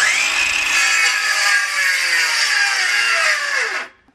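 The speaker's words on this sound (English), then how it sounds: "You just roll it with the jigsaw, like as the jigsaw blade goes around, and it cuts really nicely" A jigsaw cuts through wood with a continuous buzzing, rasping whine, loud and close, running steadily for about four seconds before winding down and stopping.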